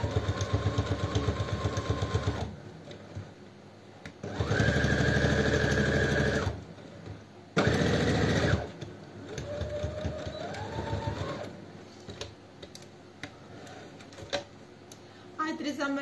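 A sewing machine stitches a fabric wallet in bursts, running loud for a couple of seconds, pausing, then starting again, with someone speaking Portuguese during the pauses.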